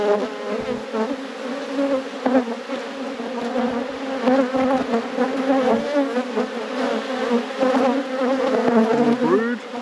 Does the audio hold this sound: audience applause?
no